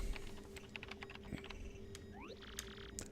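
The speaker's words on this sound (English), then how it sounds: "I love that clickety-clackety keyboard sound." Clickety-clackety keyboard typing sound effect from Paper Mario: The Thousand-Year Door, rapid soft clicks in an uneven run, with a few brighter chirps and a steady low hum underneath.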